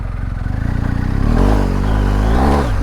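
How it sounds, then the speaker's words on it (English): A BMW R 1250 GS Adventure motorcycle runs at open throttle, its boxer engine throbbing in a rapid, close pulse that swells into a loud, rising roar. "That was kind of open throttle."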